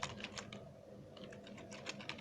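Fingers tapping on a computer keyboard in two short, quiet bursts of clicks separated by a brief pause, faint and close with no speech.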